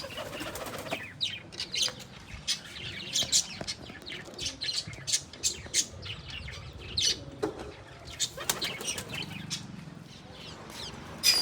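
A flock of pigeons bursts into repeated wing-flapping and squawking calls close by, the flurries coming in bursts and easing off, with no talk.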